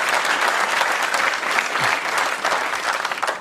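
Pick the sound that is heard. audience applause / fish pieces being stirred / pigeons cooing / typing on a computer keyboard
audience applause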